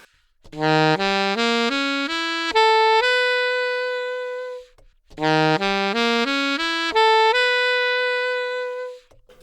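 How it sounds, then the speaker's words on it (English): A rising altered dominant arpeggio of bright, piano-like notes ending on a sustained tone, then the same arpeggio played a second time. "So the arpeggio sounds like this."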